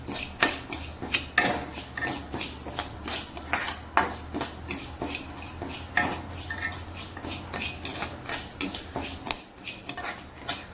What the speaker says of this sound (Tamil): அடுப்பில் கடாய் வச்சு சூடாகிடுச்சு. நம்ம உளுத்தம்பருப்பு வந்து வறுத்துக்கலாம்.